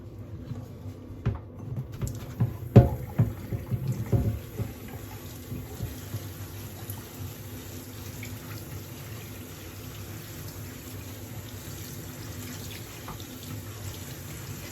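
Tap water runs over a grimy Candy Grand Vita tumble dryer part, splashing and trickling through its fins, with a few louder knocks and splashes early on, then a steady, fairly quiet flow.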